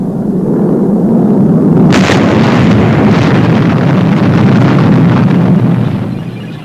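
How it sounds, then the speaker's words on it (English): The XL18 spaceship explodes in the Fireball XL5 puppet series, a loud, dense roaring blast with a sharp burst near the start that rumbles on for several seconds before fading slightly, with no voices over it. "It blew up, sir. The XL18 blew up."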